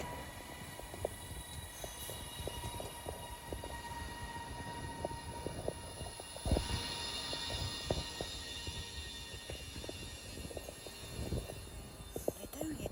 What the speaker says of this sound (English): Transpennine Express, class 397.